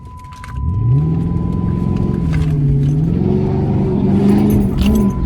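A straight-piped Chrysler 300 Hemi C idles and revs up, its deep rumbling exhaust rising and falling in pitch, loud and close, with a brief jingle of keys at the start.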